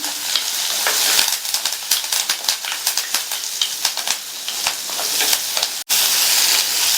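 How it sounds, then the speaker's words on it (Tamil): Onions and garlic sauté with curry leaves for a tomato-onion chutney, producing a loud, close sizzle with rapid crackling pops and stirring scrapes, then a brief drop before the hiss resumes. "இப்போ இந்த வெங்காயம் பூண்டு எல்லாமே பாதி அளவுக்கு வதங்கி வரட்டும்"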